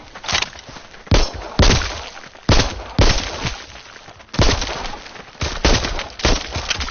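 Guns fire in the co-op virtual reality game Arizona Sunshine on PSVR, with loud, close shots in irregular bursts and short pauses between volleys.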